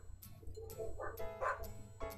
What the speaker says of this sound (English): It's a husky dog.